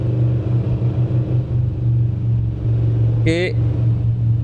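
A 2024 Lamborghini Urus runs on the road with a steady, deep engine drone from inside the cabin and a low rumble throughout, while people talk briefly in Spanish over it.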